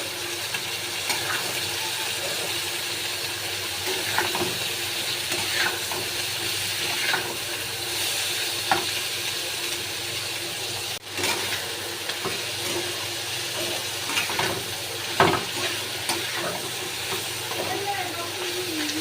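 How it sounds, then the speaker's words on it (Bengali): Cabbage fries in a pan with softened tomato, producing a constant hissing sizzle at close range, dotted with light scrapes and occasional pops. "এবার আমি বাঁধাকপিটা ওর মধ্যে দিয়ে কিছুক্ষণ একটু ভেজে নেব।"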